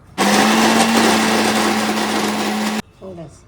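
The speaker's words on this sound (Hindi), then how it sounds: "और निमोना में हम मटर डालते हैं पीस के, और अच्छे से पीस लेते हैं ना" A mixer grinder grinds peas into a coarse paste, a loud, steady motor whine that runs for about two and a half seconds and then cuts off, followed by a brief quieter sound.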